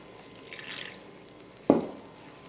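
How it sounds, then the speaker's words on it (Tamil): Water trickles into cashew snack dough during kneading, a faint wet splash early, then one sharp louder pour or plop near the end in a quiet kitchen. "இப்போது கொஞ்சம் கொஞ்சமாக தண்ணி சேர்த்து மாவு பிசைஞ்சிக்கிறேன்"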